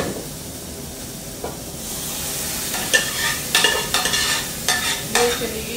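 Masala fried in a pan hisses steadily while a spoon scrapes through it in several close, rhythmic strokes over the sizzle in the second half, with no talking.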